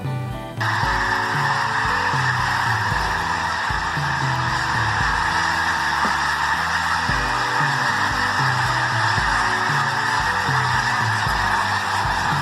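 A large flock of migrating snow geese honking continuously, a dense chorus of overlapping calls that stays loud and steady throughout.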